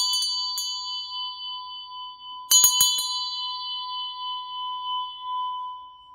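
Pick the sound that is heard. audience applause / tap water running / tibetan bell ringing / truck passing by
tibetan bell ringing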